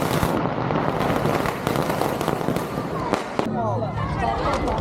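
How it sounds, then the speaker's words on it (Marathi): Fireworks and firecrackers go off at a wedding in a continuous dense crackle of bangs and pops, loud and close, with crowd noise and a voice talking over it. "तुम्ही बघू शकता इकडे फटाके वगैरे लागलेले आहेत"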